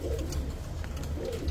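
A domestic pigeon coos nearby in low, throaty, rolling notes, repeating twice in quick succession with no voices over it.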